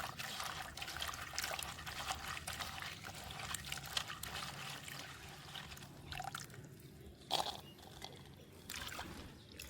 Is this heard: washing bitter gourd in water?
yes